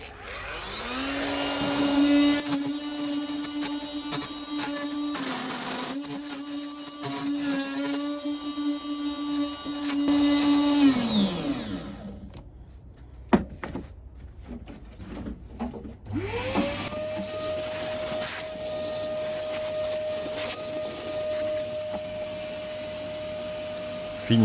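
A workshop vacuum runs loud and steady while a router works a drawer front for a recessed handle, then cuts out and restarts with a lower, steady whine.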